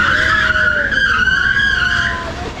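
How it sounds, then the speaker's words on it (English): A vehicle braking hard and skidding to slow down by the lakeside in Pokhara, Nepal: a loud, close, sustained tire screech that slides downward in pitch for nearly three seconds before easing off. "The 12-year-old kid's just putting on the brakes now."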